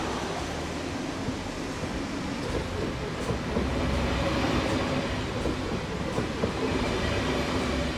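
A passenger train rolls along an 80-kilometre run to Basel in Switzerland, its interior filled with a steady, even rumble and soft rhythmic wheel clatter that holds at a constant level throughout.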